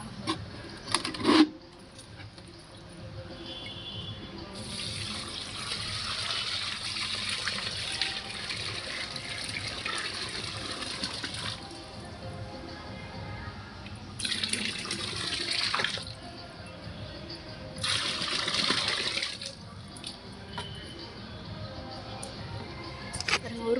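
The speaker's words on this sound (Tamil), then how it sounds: "ஒரு பாத்திக்குள்ளே அரைக்கூடம் தண்ணி ஊற்றிருக்கேன்" Water poured from a pot into a garden plant basin before planting, several splashing pours at close range, mixed with a person talking throughout.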